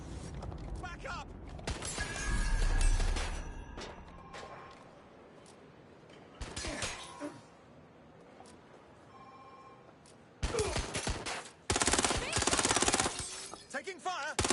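Gunfire rattles in a Watch Dogs: Legion firefight as sharp bursts of shots crack out in clusters, some loud and close, separated by quieter stretches with mechanical clanks and game voices.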